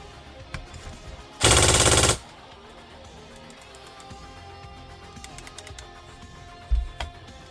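An Airsoft Systems ASAR Gen 2 airsoft rifle fires one loud full-auto burst of under a second, a dense rapid rattle, with quieter handling clicks and mechanical noises before and after.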